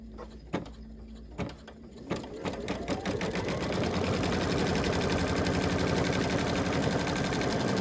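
An embroidery machine stitches down base fabric for an eyeglass case, starting with a few sharp clicks before settling into a loud, steady, fast mechanical stitching rhythm that runs continuously.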